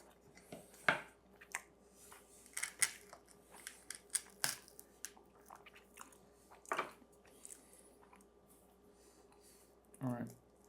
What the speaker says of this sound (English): All right, I'm gonna cut into the new bar.